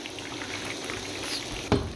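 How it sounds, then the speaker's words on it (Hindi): Lahori masala fish fries in hot oil, a soft, steady bubbling sizzle close by, ending with a brief knock as a utensil touches the pan. "लेकिन फिश हमारी फ्राई हो गई।"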